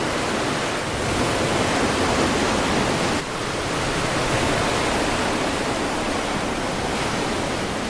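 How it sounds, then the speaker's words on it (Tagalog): Strong surf crashing against shoreline rocks at high tide, a continuous loud roar of heavy waves with one brief dip in intensity. "Ayun mo, high tide. Lakas ng alon."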